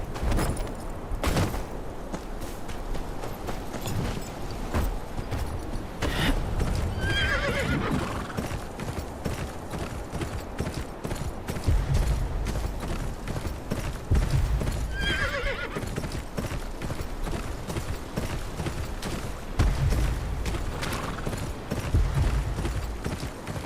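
A horse in the Game of Thrones Kingsroad video game clip-clops in a steady, brisk hoof rhythm, with several loud neighs and whinnies rising over the footfalls.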